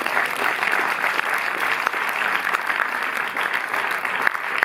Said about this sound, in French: Si vous voulez, vous pouvez l'applaudir.